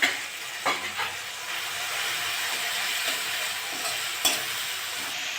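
Ginger garlic paste frying with cooked-down tomato in a pan, a steady close sizzle with a few sharp clicks of a spoon stirring against the metal.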